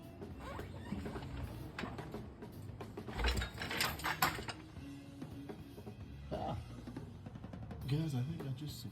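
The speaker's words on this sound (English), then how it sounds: "Now, we're going to see about lowering this transmission down." Heavy mechanical clanks, ratcheting and grinding as a 4.6 2V V8 engine and transmission from a 1996-1998 Mustang GT are lowered on a jack in a garage, with irregular metallic knocks and scrapes of moderate loudness and some speech mixed in.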